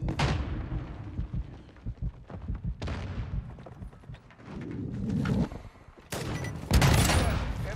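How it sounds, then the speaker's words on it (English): Video game combat with a cluster mine exploding and bursts of rapid gunfire, loud and close, rumbling blasts and crackling shots recurring through the passage before a final sharp explosion. "My cluster mine finally kills me."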